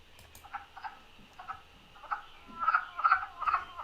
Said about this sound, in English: This is what one single wood frog sounds like.